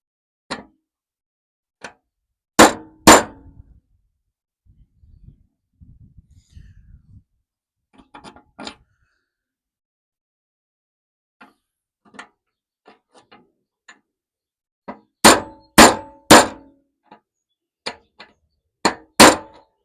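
Loud metal-on-metal hammer blows drive a bearing race out of a Ford 930 finish mower spindle, coming in scattered pairs and bursts with quieter taps and shuffling between, close and without talk.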